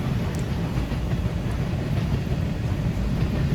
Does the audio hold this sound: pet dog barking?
no